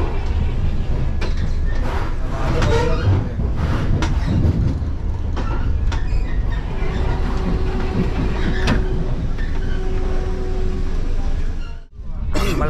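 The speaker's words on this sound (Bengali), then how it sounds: "আম্বালা থেকে নিউ দিল্লি অবধি আমি এই ট্রেনটায় রাইড নিচ্ছি" Vande Bharat Express train running between Ambala and New Delhi, heard from inside: a steady loud rumble with rail clatter and scattered clicks, voices talking faintly over it, ending in a brief drop.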